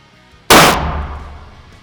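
One sharp, very loud gunshot from a Sig Sauer Cross-Magnum Sawtooth rifle on a shooting range, close by, with a sudden blast that decays into a rolling echo over about a second.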